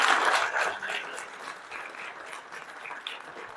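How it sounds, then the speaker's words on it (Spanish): An audience at an album presentation applauds, the clapping loudest at the start and then thinning and fading to a lighter patter, with a voice faintly present. "Un aplauso, por favor"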